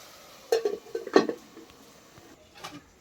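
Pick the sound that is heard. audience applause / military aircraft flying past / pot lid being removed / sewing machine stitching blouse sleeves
pot lid being removed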